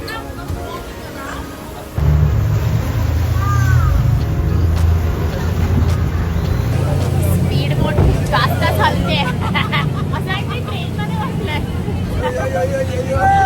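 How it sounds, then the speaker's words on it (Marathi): Speedboat engine droning loudly on a ride out to Phi Phi Island near Phuket, a steady low rumble kicking in after a couple of seconds, with people chattering over it. "ही वाली आमची स्पीड बोट आहे"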